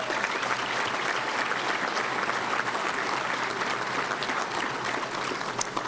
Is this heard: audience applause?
yes